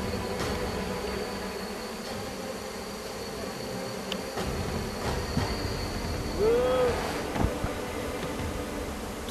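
Bees drone and buzz in a continuous hum as a wild honeycomb is harvested high in a tree at night in Indonesia, with a steady low rumble beneath and faint voices.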